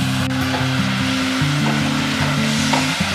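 Frying masala for a tilapia curry sizzles steadily and loudly after a little spice-rinse water is poured in, a dense continuous hiss close up with no voices.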